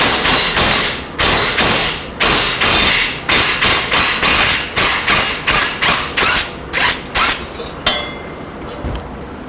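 Hammer blows knocking loose a rusted front wheel bearing on a 2007 Subaru Legacy: a long series of loud, sharp metallic strikes in an irregular rhythm, close up and alone, thinning out toward the end.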